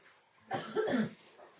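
A single short, soft cough from a woman, slightly distant against quiet background.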